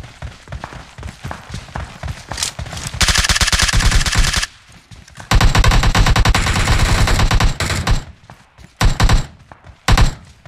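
Heavy automatic gunfire from the PUBG Mobile battle royale game, loud sustained bursts of machine-gun fire that stop and start, with a few short final volleys.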